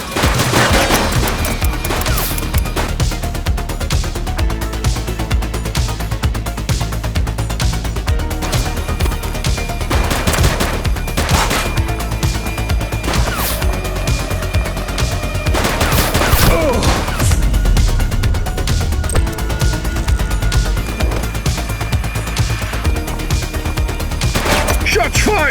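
Sustained bursts of gunfire in The Precinct police video game, rapid automatic volleys and single shots cracking over a loud, continuous game soundtrack, with voices calling out now and then.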